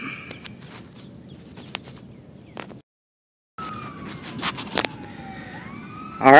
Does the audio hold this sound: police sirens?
yes